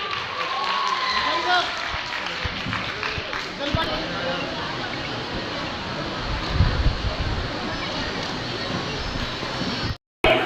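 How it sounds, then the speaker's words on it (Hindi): Applause from an audience during a shawl presentation at a ceremony runs as a steady patter of many hands, with a speaker's voice over it, then cuts off abruptly near the end. "तालियों की गूंज में जोरदार तालियां हो जाए"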